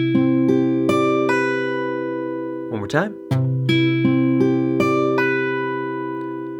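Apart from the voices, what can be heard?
guitar playing variation of crisscross pattern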